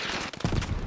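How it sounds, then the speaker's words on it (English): Gunfire punching through a wooden wall in the military shooter Squad: a quick cluster of sharp, close shots that lands midway and rattles on briefly after. "Rudin just dropped rounds through the wall"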